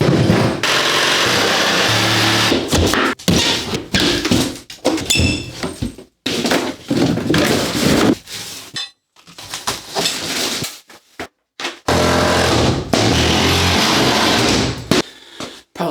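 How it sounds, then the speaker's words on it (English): Drywall being torn and broken off a bathroom wall during a remodel: loud, close bursts of cracking, scraping and thudding debris, broken by short pauses, with no speech. "remove all of the drywall on this wall in order to provide access"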